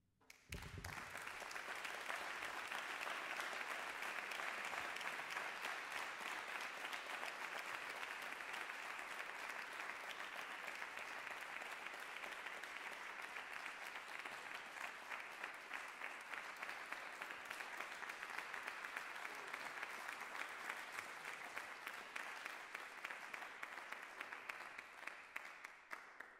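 An audience at a spoken word poetry night applauds after a poem, a steady, dense wash of clapping that holds for over twenty seconds at a moderate distance before tapering slightly at the end.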